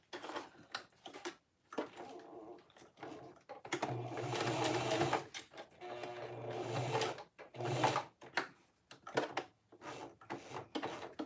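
A sewing machine stitches a cotton woven phone sling in short bursts, whirring runs separated by pauses and a few mechanical clicks, close and fairly quiet.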